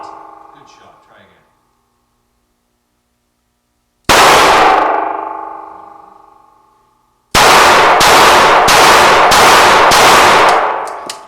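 Handgun shots crack loudly at a shooting range: one booming shot rings out and decays, then a quick string of about six shots follows with heavy echo. A faint voice is briefly heard at the start.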